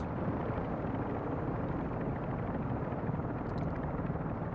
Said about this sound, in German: Was ist jetzt mit dem Heli? Der ist in der Luft